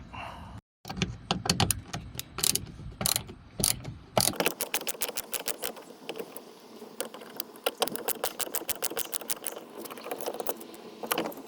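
Rapid ratcheting clicks from a hand tool loosening three screws on a Dodge Journey engine part, in quick repeated bursts, close up with no talking.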